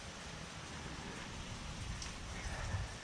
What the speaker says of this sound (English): Felt like more than rain for a minute there. I thought it was about to be hail.